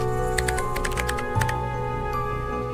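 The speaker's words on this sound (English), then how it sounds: "But then she heard the sound of someone typing in a neighboring office." Keyboard typing sounds from the video game Spirit Hunter NG, a brisk run of irregular clicks over a steady ambient music bed, with a pause and one final tap near the end.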